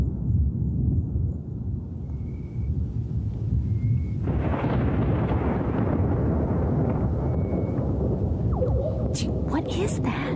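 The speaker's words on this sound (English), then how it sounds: "I have never heard thunder like that." Strange, bizarre-sounding thunder rumbling outdoors in Florida, a continuous deep roar that swells into a broader, louder rumble partway through, with faint crackles near the end.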